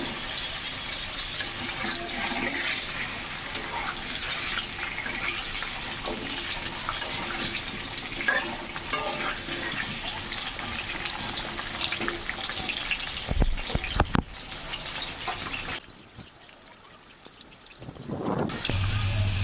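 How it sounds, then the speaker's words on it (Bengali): Potatoes fry in an inch of hot oil in a wok (kadai), a dense, steady sizzling crackle close by for most of the time, interrupted by a few clanks and a brief quieter moment before the sizzle resumes. "আলুটা ভালো করে লাল লাল ভাজা করে নেবেন"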